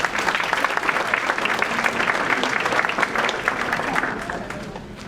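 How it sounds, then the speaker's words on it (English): An audience at a school curriculum night applauds Ms. Melissa Ifey, a physical education representative. The clapping is steady and moderately loud, then gradually fades, with faint voices mixed in. "Please give her a round of applause."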